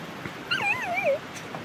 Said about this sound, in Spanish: Es un perro.